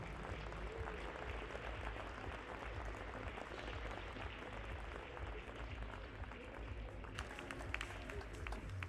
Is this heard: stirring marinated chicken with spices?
no